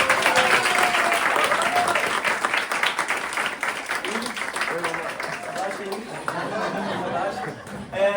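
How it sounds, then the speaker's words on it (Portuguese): An audience applauds mothers at a church gathering, dense sustained clapping that fills the room for several seconds, with chatter and a few chuckles mixed in under the claps. "Vamos bater uma salva de palmas para as mães."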